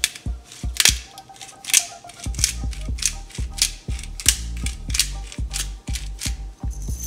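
A pepper grinder twists peppercorns in a kitchen while making macaroni and cheese, giving a close series of sharp, rhythmic ratcheting clicks and crunches with brief pauses.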